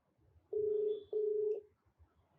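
A telephone call being dialed produces two steady tones, each lasting about half a second, with a short gap between them, clear and close against a quiet room.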